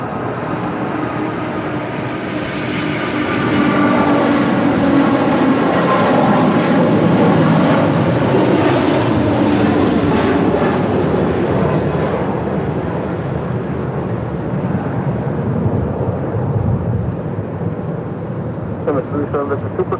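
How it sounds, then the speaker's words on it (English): An Emirates Airbus A380 on departure, its jet engines a broad, sustained roar that swells and then slowly fades over twenty seconds, heard at a distance. "That is Emirates Flight 216 departing to Dubai on the A380"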